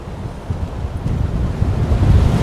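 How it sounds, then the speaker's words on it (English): Strong wind gusts buffet a riverside walkway beside a campground, producing a loud, continuous low roar of wind noise across the microphone that builds steadily stronger with no speech. "It's incredibly windy."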